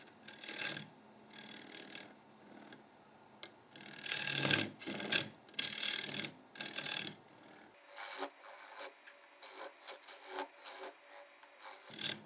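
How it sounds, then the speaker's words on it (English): A square end scraper rasps against spinning wood on a lathe, cutting a chopping board or platter in repeated scraping bursts with short pauses, close and fairly quiet. "Square end scraper."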